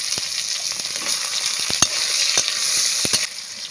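Chopped onion hitting hot oil with bay leaf, dried red chilli, panch phoron, cardamom, clove and cinnamon, in oil used to fry potatoes, makes a steady close sizzle with scattered sharp clicks from stirring.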